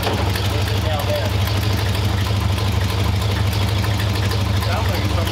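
A steady, rumbling hot rod Ford Model A engine idles close by, with a rapid ticking pulse from an exhaust leak running through it and faint voices underneath.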